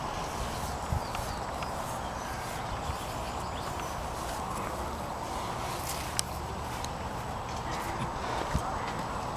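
A 21-year-old stallion at the Irish National Stud, biting at a fence outdoors, gives faint thuds and shuffling movement beneath constant wind-like noise, while people talk nearby.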